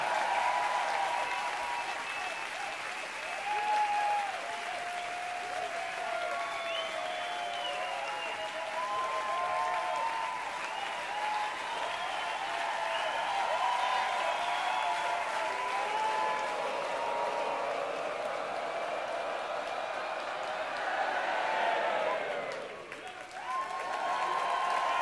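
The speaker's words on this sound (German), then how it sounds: "Das heißt nicht, dass ihr aufhören sollt zu klatschen." Sustained applause from a concert audience at a live rock show in Berlin, a dense, steady wash of clapping lasting throughout with a few whoops, dipping briefly near the end before swelling again.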